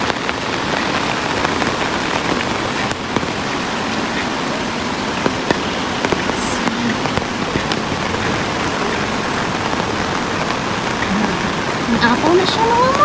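Heavy rain pours steadily during a flood, a dense continuous hiss of drops on surfaces with a voice speaking faintly near the end.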